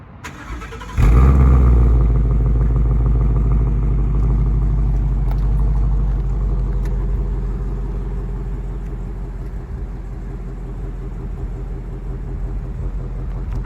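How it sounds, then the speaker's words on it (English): A 2017 Mustang GT base model with fully stock exhaust and no muffler delete fires up with a sudden deep rumble, then settles into a steady loud idle that slowly eases off, close to the car with no talk. "This is without the muffler delete."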